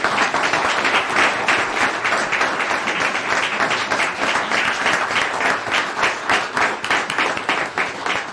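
An audience at a mayor and council meeting applauds after a proclamation is read, producing sustained, moderately loud clapping with a thick rhythmic texture that lasts about eight seconds and has no talking over it.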